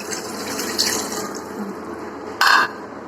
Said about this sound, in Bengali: এখন আমি পানি দিয়ে দিচ্ছি